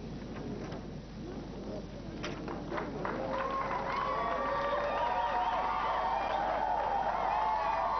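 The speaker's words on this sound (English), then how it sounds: "a packed house and an excited crowd here in the University of Houston." An excited crowd cheers and shouts in a packed University of Houston arena at a national aerobic championship, a loud continuous roar that swells and holds, with a voice briefly audible over it.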